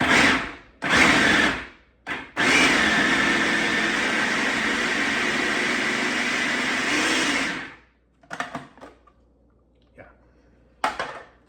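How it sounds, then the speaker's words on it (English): A blender whirs loudly and steadily for about five seconds, pureeing sauce for crab cakes, after a couple of short pulses, then stops and leaves scattered clatter. "all I'm going to do, believe it or not, is blend this up"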